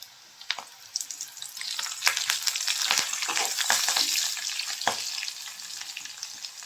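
Cumin, mustard seeds and curry leaves crackle and spit in hot oil while corn poha is made, a steady bright sizzle broken by sharp pops clustered through the middle, close and moderately loud with no voices.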